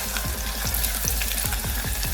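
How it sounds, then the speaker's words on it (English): Chopped onions fry in hot vegetable oil in a pot, a constant close sizzle broken by repeated soft scraping stirs at an even pace. "in my pot on heat, I added in little vegetable oil, and when it's hot enough, I brought in some chopped onions"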